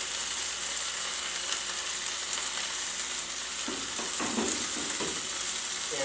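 A burger patty topped with cheese and bacon sizzles steadily in a frying pan, a loud continuous crackle and hiss with a few louder spits near the end and no voices.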